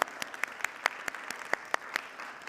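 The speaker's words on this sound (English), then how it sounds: "Another round of applause." A church congregation gives a round of applause at a Sunday service, heard as sparse, distinct claps in an irregular rhythm, a handful of sharp hits standing out over a thin, quiet background.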